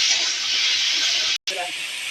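Potato pieces sizzle in hot oil in a pan, a loud steady hiss broken by a brief cut, with faint voices underneath.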